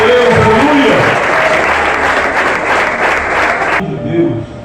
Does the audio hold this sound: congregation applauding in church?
yes